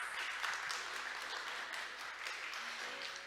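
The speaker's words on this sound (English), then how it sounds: "Let's give Mr. Park another big round of applause." A conference audience at Korea Maritime Week 2022 applauds after a presentation, continuous mid-level clapping from a seated crowd, even and unbroken across the whole stretch.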